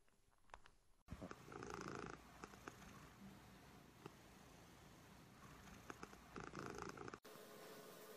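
A cat perched on a chair purrs close by in a steady, rumbling drone that runs on and on with a few small rustles and no voices.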